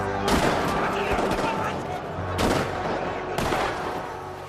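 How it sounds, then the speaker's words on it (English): Ottoman artillery battery firing on Arab positions from an isolated fort near Mecca: three heavy booming blasts, each with a long rolling tail, under a constant din of battle noise. "isolated Ottoman fort with an artillery battery was firing on Arab positions for weeks into the Arab revolt"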